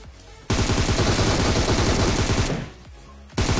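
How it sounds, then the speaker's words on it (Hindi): Rapid automatic gunfire from PUBG, a loud sustained burst of shots lasting about two seconds, then a brief lull before the firing starts again. "पीछे से फायरिंग पड़ने लगते हैं, वो भी बहुत तगड़े वाली"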